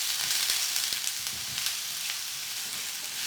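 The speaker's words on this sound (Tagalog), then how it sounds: "Itutuloy ko lang ang pag-isa dito hanggang sa lumambot na yung sibuyas" Onions sautéing in a pan for Filipino pork menudo give off a steady, close broadband sizzle with occasional faint pops and stirring clicks, no talk.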